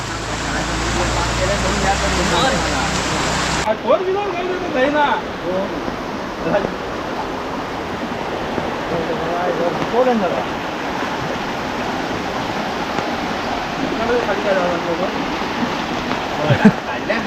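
Floodwater rushing during a major flood in Ratnagiri, a broad continuous roar of flowing water heard outdoors, with voices and brief knocks over it.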